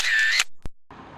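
A single quick camera shutter click for a selfie, sharp and close, coming just after a brief electronic chirp and followed by faint background noise.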